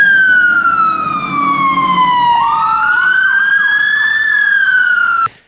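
A loud wailing siren-style alarm sounds continuously in a workshop, its tone sweeping down then rising again before cutting off abruptly.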